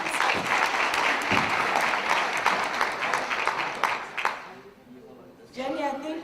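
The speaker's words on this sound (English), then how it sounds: "Can we give our presenters another round of applause" Conference audience applauding presenters, a full round of dense clapping for about four seconds that fades out, followed by a voice beginning to speak.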